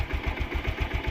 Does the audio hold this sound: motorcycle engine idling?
yes